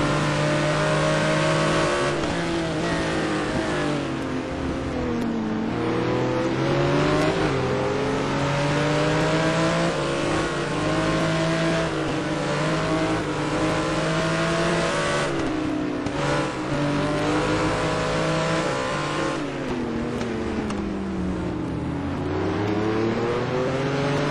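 Race cars in the STC Black Cup at Anderstorp roaring continuously at high revs, engine pitch rising and falling through gear changes and corners, loud and close throughout with no talking.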